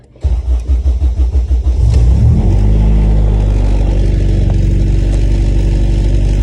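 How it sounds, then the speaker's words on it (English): A project car in a Honda garage cranks with a rhythmic starter churn, catches after about two seconds, then settles into a loud, steady, close idle with a slight rev, and no voices. "clip of me turning on the project car and bringing it over to the other garage"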